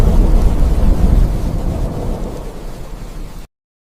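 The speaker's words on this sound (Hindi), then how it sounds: "बहुत तेज बारिश हो रही है, आसमान भी गरज रहे हैं।" Heavy rain pours steadily while deep thunder rumbles loudly at the start and slowly fades, with no voices.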